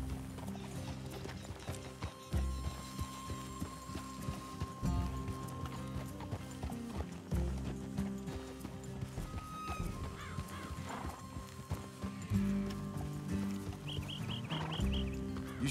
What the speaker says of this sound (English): Let's leave the horses here and take a look.